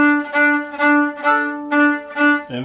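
Six short bowed string staccato notes played without collé, each with a soft, fuzzy attack and no crisp bite, played alone at a moderate pace and fairly close.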